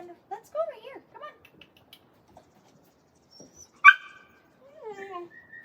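A puppy in day-school training gives a few sharp yips and barks mixed with thin whimpers, scattered across the stretch with quiet gaps, near and fairly loud.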